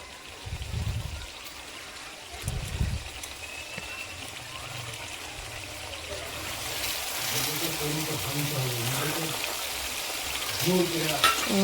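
Food sizzles in a pan while a utensil stirs and scrapes, with some background noise and faint tonal sounds later.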